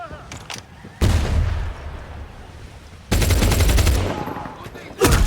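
Gunfire in the video game Medal of Honor (2010) multiplayer: two loud, dense bursts of rapid automatic shots, each lasting about two seconds with a gap between them, followed by one more sharp shot at the end.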